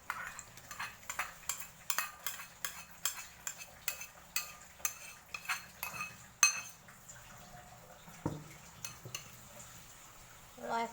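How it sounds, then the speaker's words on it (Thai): A pot of fish curry with coconut milk and fish sauce being stirred, giving a regular series of light metallic clinks and scrapes of a spoon against the pot, close and fairly quiet. "เนี่ยขอคนหน่อยก็คนคนจ้ะ"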